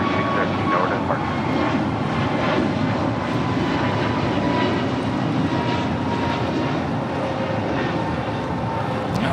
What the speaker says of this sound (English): That was American Airlines Flight 2613. It's an A321neo.